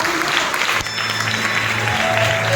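A church congregation at a New Year's Eve watch night service claps loudly together, a dense, continuous burst of applause close by that fills the whole moment.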